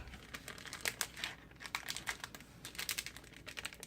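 Adhesive backing paper peeled off a paper Valentine treat pouch: close, quiet crackling and crinkling in short bursts, with no talking.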